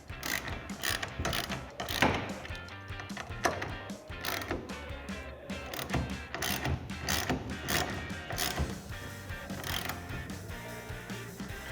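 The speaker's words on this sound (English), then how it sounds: "Grab your 13mm socket and tighten this down." A 13mm socket ratchet tightening a clamp on a Truxedo TruXport soft roll-up tonneau cover fitted to a 2019-2021 Silverado or Sierra 1500, a steady run of close, rapid clicking strokes with no talk.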